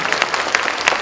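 An audience applauds to thank the company chairman at the close of an event, a brief burst of brisk, even clapping with a few louder individual claps standing out.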